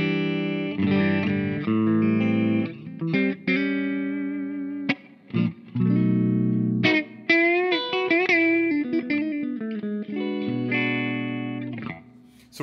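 Clean electric guitar through an amp, a Dumble-style clean voice with reverb, playing sustained chords and single notes with ringing harmonics, a few short gaps between phrases, loud and close with no talking.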